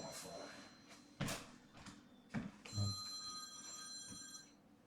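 A phone rings indoors with a steady electronic ring that holds for a couple of seconds, after a few dull knocks and thuds, fairly close and moderately loud with no talk over it.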